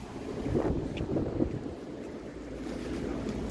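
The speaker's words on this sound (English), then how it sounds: "The wind is whistling by my fucking ear. That's how windy it is." Wind buffeting a microphone outdoors in London near spinning windmills, with low rumbling gusts that swell and ease, close and fairly loud against the quiet.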